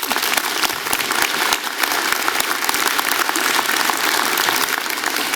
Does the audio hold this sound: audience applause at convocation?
yes